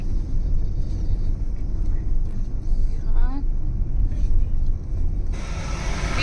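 A car on a long road trip from Delhi to Kashmir rumbles steadily along the road, a constant low engine and road drone under occasional talk from passengers inside.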